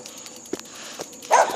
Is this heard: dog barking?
yes